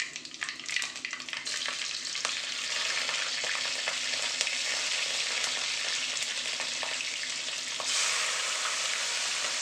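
Panch phoron, green chillies and onion frying in hot oil, a steady close sizzle with scattered crackles and pops, intensifying near the end.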